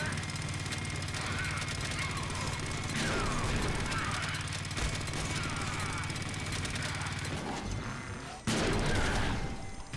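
Rapid bursts of heavy gunfire crackle and rattle from big guns in a Deadpool video game, dense and continuous, ending with a sharp loud blast; a voice speaks faintly.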